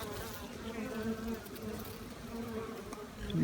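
Honeybees swarming around an open hive during an inspection after a swarm, a dense, continuous close buzzing drone with shifting pitch, steady throughout and free of talk.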